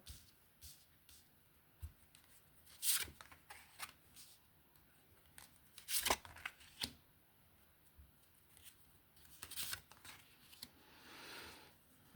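Tarot cards being shuffled in short crisp bursts, several riffles spread out over quiet stretches, close by and fairly soft.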